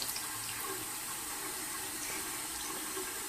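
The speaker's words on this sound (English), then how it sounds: "Turn the water on." Water runs steadily from a sink tap as a toddler washes his hands, a soft, even hiss heard close by without a break.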